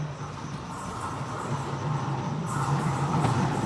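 A train pulls into Rome Ostiense station, a low steady rumble that swells as it nears, with station hiss and faint rail noise around it, fairly distant and without talk.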